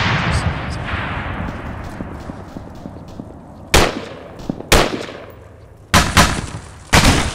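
Heavy gunfire in ArmA 3 co-op combat: an earlier stretch of rapid distant shots gives way to four separate loud, booming blasts at irregular intervals, each with a decaying echo, heard close and alone.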